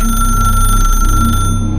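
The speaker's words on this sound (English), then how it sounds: "but yet it rang, like an old-fashioned bell" An old-fashioned telephone bell ringing, a loud, rapid, continuous metallic trill with a steady tone that cuts off near the end.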